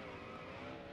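A stock car in NASCAR Heat Evolution drifts through a corner at Sonoma with a sustained engine drone and faint tire squeal, steady and fairly quiet for about a second.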